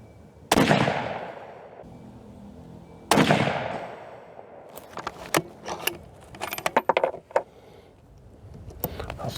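Two loud rifle shots from a 260 Remington with a heavy fluted barrel firing Remington Premier match ammunition, each with a long echoing decay, followed by clinking and rustling handling noises.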